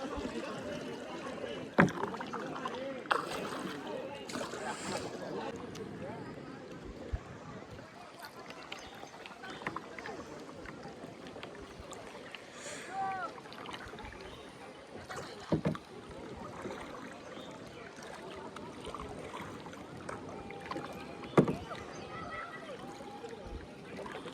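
A kayak paddled through water in Malvan, with repeated soft paddle splashes and drips at an irregular pace over a steady outdoor background, while people talk at intervals.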